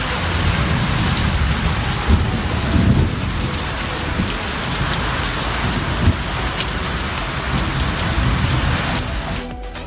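Heavy rain pours steadily over a village in Odisha, a dense, constant hiss of drops drumming on surfaces close by, with a few heavier gusts and a brief dip near the end.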